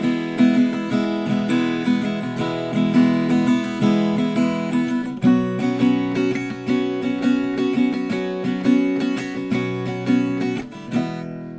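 Acoustic guitar strummed in an easy chord pattern for a song, a steady rhythmic strum that carries through alone with no talking.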